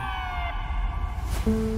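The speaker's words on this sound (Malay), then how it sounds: "Yang kedengaran hanyalah siren ambulans yang nyaring membelah hening malam." An ambulance siren wails through a quiet night, its steady electronic tones held and then shifting to a lower pitch partway through, moderately loud over a low background rumble.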